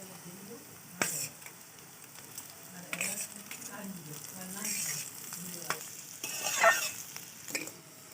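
Fried spices and vegetables sizzle in a hot wok with a soft constant hiss, punctuated by scraping stirs and light clinks of a utensil against the metal, close and moderately quiet.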